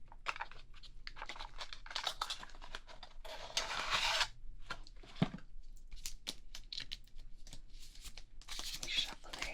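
Tarot cards shuffled up close, giving dense papery rustling and crisp riffling bursts that come in uneven clusters, with a brief louder flurry midway.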